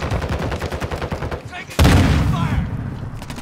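Rapid video game gunfire from an enemy shooter, a fast rattling string of shots followed by a loud booming blast that rings out, with gameplay noise around it.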